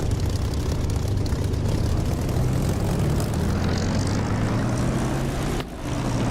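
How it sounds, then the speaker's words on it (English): A propeller aircraft in the DCS flight simulator roars steadily as it accelerates down the runway for takeoff, its engine drone loud and continuous and slowly rising in pitch, with a short dip near the end. "as I'm hurtling along the runway for takeoff"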